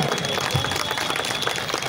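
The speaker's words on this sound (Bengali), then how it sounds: "একটা জোরে হাততালি হবে প্লিজ" A crowd at a Bijoya Sammilani gathering claps in a dense, steady burst of applause, close and even throughout, with no voices standing out.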